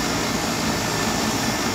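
A vacuum pump evacuates an HVAC system during a Goodman evaporator coil and condenser changeout, giving a steady, even mechanical drone that holds constant throughout at moderate loudness with no talking.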